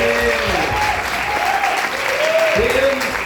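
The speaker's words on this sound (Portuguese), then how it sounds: "Vamos aplaudir o Senhor mais uma vez?" A church congregation applauds in a sustained, steady wash of clapping, loud and close, with voices calling out over it.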